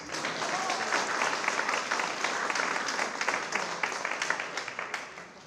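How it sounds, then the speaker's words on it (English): Audience applause at a gospel concert: many hands clapping at a moderate distance, with individual claps standing out in a loose, uneven rhythm that swells and then tapers toward the close. "Give yourselves an applause."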